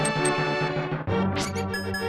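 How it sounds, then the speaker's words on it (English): A breakable wall hit in The Legend of Zelda: A Link to the Past, a short hollow knock with a resonant ring, heard over steady background game music. "That is the sound of a wall that can be broken."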